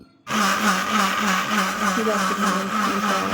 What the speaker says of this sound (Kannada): ಇವಾಗ ಮಿಕ್ಸಿಗೆ ಹಾಕ್ತಾ ಇದ್ದೀವಿ